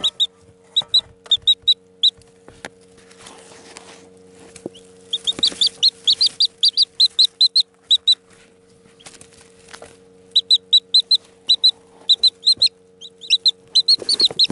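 Chicken chicks peep loudly in repeated bursts of high, shrill cheeps, clustered in lively runs with short quiet gaps, close by over a faint steady hum.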